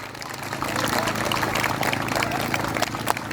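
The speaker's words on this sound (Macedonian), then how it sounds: "Ве молам за еден аплауз" Audience applause at a children's choir CD launch at DKC Karpoš in Skopje, a dense, steady wash of many hands clapping, loud and sustained throughout.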